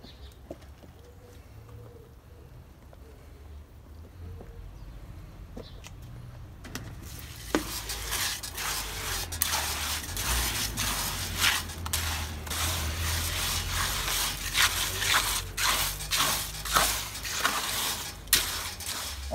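Cement mixed with coloured powder for an atlas stone starts as a faint background with bird calls, then turns into loud, gritty scraping and churning that continues with irregular knocks.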